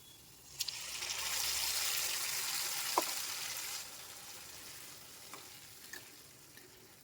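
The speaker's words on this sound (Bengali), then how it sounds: "কাঁচা লঙ্কা জিরে আদা টমেটো পেস্ট এটা দিয়ে কষে নেব" Fried potatoes sautéed with green chilli, cumin, ginger and tomato paste, a sizzle that swells after an opening clink, holds steady, then fades down, with scattered spoon scrapes and taps against the pan.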